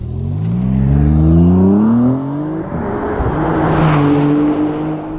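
A Maserati MC20 Cielo's engine revs loudly nearby below 4,000 RPM, its droning, moaning tone sweeping up and down through two rises in pitch with no talk.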